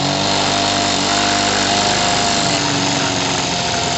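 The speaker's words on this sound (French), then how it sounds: "Oh bah elle a craché son échappement." A live steam engine spitting out its exhaust at about 3 to 4 bar, a loud, dense, continuous roar and hiss with a throbbing low rumble underneath and no voices.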